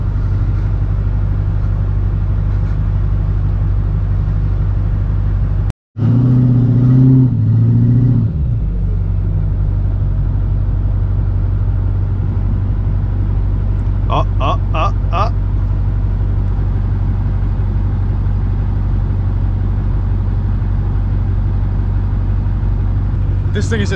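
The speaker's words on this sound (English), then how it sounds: "Sitting there just gunning it, spinning the fucking tires, burning the engine out of it." A Ford truck stuck in frozen mud, its engine held at a heavy droning rev with tires spinning, loud and continuous and briefly surging, with a short dropout and some faint clanks later.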